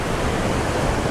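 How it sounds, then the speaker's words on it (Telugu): Sea waves wash against the shore beside the submarine museum in Visakhapatnam, a continuous broad roar that stays steady and fairly loud without distinct breaks. "మీకు ఇప్పుడు సౌండ్ వినిపిస్తుందేమో, ఇది సముద్రం."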